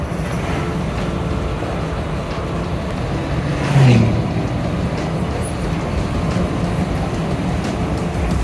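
A car drives through fog in coastal mountains, its steady engine and road rumble continuous and close, with a brief louder swell near the middle.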